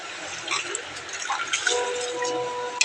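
Rice rinsed in water by hand, close swishing and trickling with light drips and splashes, fairly quiet and continuous.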